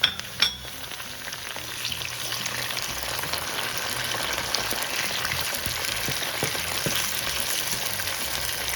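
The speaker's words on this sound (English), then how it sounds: "We're going to add our ají amarillo peppers right to the pan." Ají amarillo peppers sautéing in a pan with onion and garlic for a Papa a la Huancaína sauce give off a steady, close sizzle with fine crackles, after a brief clatter at the very start.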